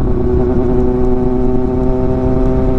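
A Kawasaki ZX6R motorcycle rides along the Skyway, its engine a loud, steady, close hum with strong low rumble and even tone throughout.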